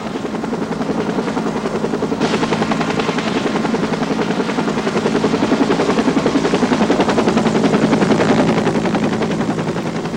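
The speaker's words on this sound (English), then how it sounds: "The Life Flight helicopter arrived from Portland in less than 15 minutes." A Life Flight medical helicopter arriving from Portland beats out loud, continuous rotor chop that swells slightly as it comes nearer, with no talking over it.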